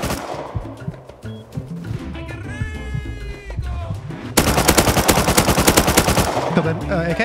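AK rifle fire in Rust opens with scattered shots under game noise, then a loud rapid automatic burst sustains for the last few seconds.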